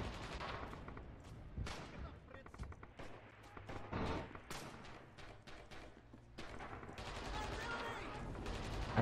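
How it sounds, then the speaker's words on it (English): Gunfire in a Red Orchestra 2 multiplayer battle with artillery mixed in: repeated sharp rifle and machine-gun shots and thuds at varying distances, with occasional voices over the din. "Ooh, artillery."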